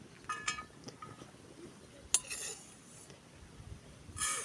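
Roasted havari grain scraped out of a pan onto a plate for ladoos: scattered spoon scrapes and light metallic clinks, a sharper clink midway and a rattling pour near the end, close with no speech.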